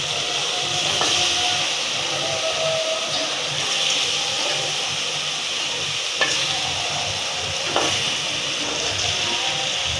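Goat meat sizzling and frying in a pot over a village cooking fire, a steady close hiss with occasional stirring clatter, no talking.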